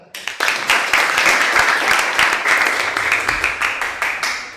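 Classroom audience applause during a teaching-practice lesson, many hands clapping close and loud with distinct sharp claps audible within the steady roar, continuing strongly throughout.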